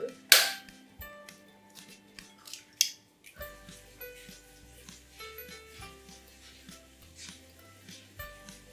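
Eggs are cracked for a carrot cake: sharp crisp cracks and taps against a bowl, one loud snap near the start, then scattered lighter knocks and small clinks, close up in a quiet kitchen with no talk.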